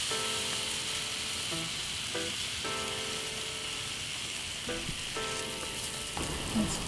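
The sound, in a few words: egg frying with prawns for fried rice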